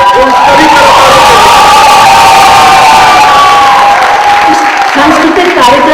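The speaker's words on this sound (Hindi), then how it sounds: "एक बार जोरदार तालियां आज के मंच पर जिन लोगों ने परफॉर्मेंस किए उन सभी" Loud crowd at a cultural evening during a Hindi fortnight event, with clapping, cheering and whoops all blended, close and sustained throughout.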